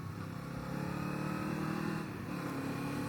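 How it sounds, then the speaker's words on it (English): Kawasaki Eliminator motorcycle engine idling or running steadily close by, a continuous low rumble with a smooth, even tone and no talk over it. "And this motor sounds really good."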